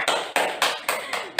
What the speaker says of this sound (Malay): Kelas bagi tepukan